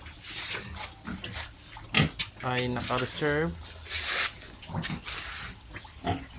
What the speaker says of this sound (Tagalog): Dahil itong mga baboy pong ito